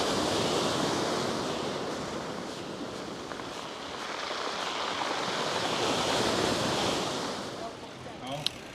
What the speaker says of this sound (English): the sound of the sea lapping away out on the pebbles